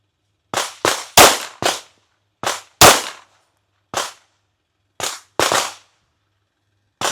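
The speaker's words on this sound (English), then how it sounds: "we're going to start out with the XP Comp" Nine sharp pistol shots from a Fusion XP Pro Comp, fired one at a time with uneven gaps, each a loud close crack with a quick ringing tail.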